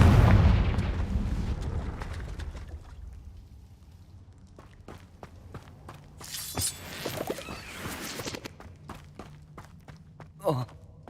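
Confringo spell blasts in Hogwarts Legacy: a heavy booming burst at the start, then a run of sharp pops and cracks with scattered footsteps, and another bright crack near the end.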